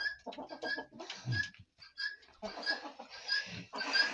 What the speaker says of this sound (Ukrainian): Славнючий півень.